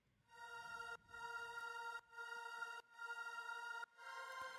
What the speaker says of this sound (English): So this is the synthetic choir preset